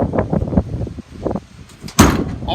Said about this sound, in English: All the cabinet doors but one open and close as they should.